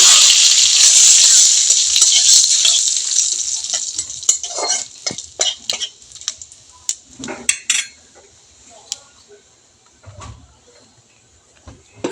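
Whole cumin seeds and bay leaves drop into hot oil and hiss loudly at first, then the sizzle fades as a metal spoon stirs and clinks against the pan in short, irregular scrapes.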